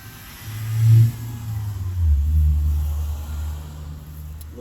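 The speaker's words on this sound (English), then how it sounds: "Little Tokyo drift just went by. Nice Honda Accord." A Honda Accord car passes by outdoors, a low rumbling engine swell that rises, peaks and fades over a few seconds, fairly close, with no talking.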